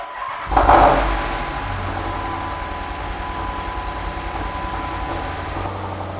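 A Dodge Challenger engine, recently rebuilt, cranks and fires with a sharp surge of revs, then settles into a steady, even idle rumble that continues close and loud until the end, with no talking.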